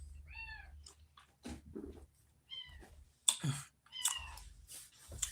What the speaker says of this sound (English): Ooh, this cat driving me crazy,